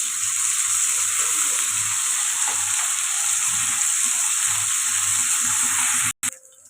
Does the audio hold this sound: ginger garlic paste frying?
yes